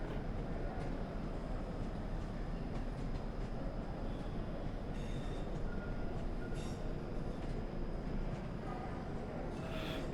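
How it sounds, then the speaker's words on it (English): A simulated passenger train in Train Sim World 3 runs through snowy Birmingham toward a small station stop, giving a steady, loud rumble of wheels and running gear throughout, with brief higher squeals near the end. "It's my train approaching his little stop."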